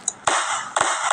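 Deepavali firecrackers go off nearby in a few loud, sharp bursts, each trailing into a hissing, crackling spray.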